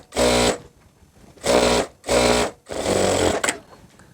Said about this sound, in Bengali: এই জন্য একটা ব্যাক স্টিচ দিয়ে দিবেন।